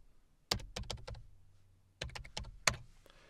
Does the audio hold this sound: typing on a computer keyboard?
yes